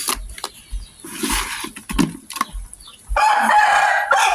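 A rooster crows loudly nearby in a rural Thai outdoor setting at night, the call rising over scattered thumps and rustling, with a steady hiss of insects filling the background.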